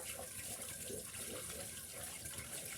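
Water drawn from a well runs and splashes steadily throughout, a soft continuous pouring with faint background murmur.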